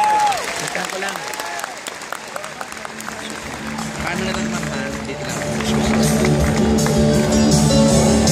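Loud audience applause fills the room throughout, dense clapping from a crowd with a voice speaking over it at the start.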